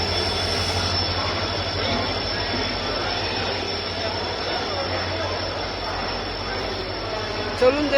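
The Dhauli Express passenger train bound for Puri at a railway station, with a continuous rumbling drone and faint wheel squeal that holds steady throughout.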